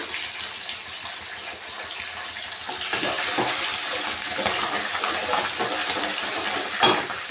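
Curry leaves hit hot oil with a bright, hissing sizzle that swells partway through and carries on steadily, a sharp crackle near the end, no voices over it.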